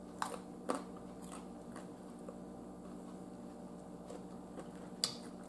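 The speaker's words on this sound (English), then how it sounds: "I like that crunch." Crunchy cheese is bitten and chewed close up, making a few sharp crisp crunches scattered among quiet, soft chewing sounds, with no talk over it.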